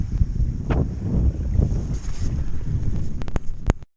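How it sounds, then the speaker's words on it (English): Wind buffets and rumbles across the microphone on a cold valley walk, a loud, gusty roar with shifting low surges and a few sharper rustles near the end before it cuts off. "I've got the wind behind me now, which is kind of what I expected."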